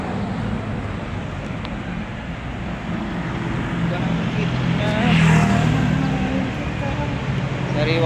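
Cars pass by fast on a smooth road, a continuous roadway rumble with one louder swoosh of a passing vehicle midway, heard from the roadside.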